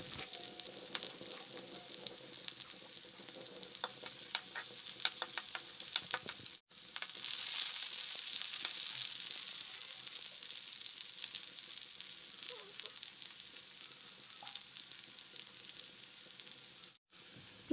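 Onion and garlic frying in oil for a chicken curry, with a crackly sizzle and scattered stirring ticks that swell into a louder, denser hiss midway, broken by two brief gaps.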